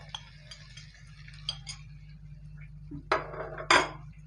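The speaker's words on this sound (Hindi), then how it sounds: "ड्राई मसाले को हल्का सा स्पून से हम मिला देंगे" A metal spoon stirs dry spices in a dish for spiced potato chaat: soft scraping first, then a few bright clinks against the bowl near the end.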